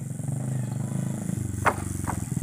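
A motorcycle rides across a village suspension bridge over rice fields, its engine a steady close rumble with rhythmic clatter from the deck, and a voice briefly over it.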